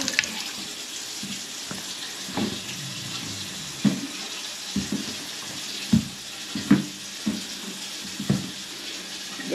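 Shower and bathroom sink running in a bathroom during a bathtub drain unclogging job, a steady hiss of flowing water with scattered clanks and knocks from the work.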